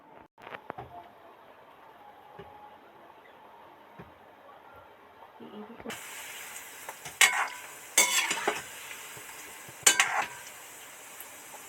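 Banana fritters frying in hot oil over a raised flame, a soft sizzle that jumps louder partway through, punctuated by sharp clinks and scrapes of a utensil stirring in the pan.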